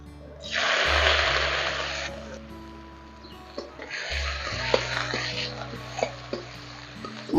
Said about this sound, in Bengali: কড়াইয়ে তেলটা বুঝে দিয়েছি ওর মধ্যে দিয়ে ভেজে নিচ্ছি